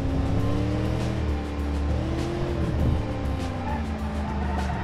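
Simulated car in the BeamNG driving game, its engine droning steadily as it drives and skids under altered gravity, with a continuous close engine tone and faint tire noise throughout.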